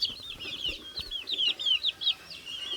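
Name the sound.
native desi chickens clucking on a farm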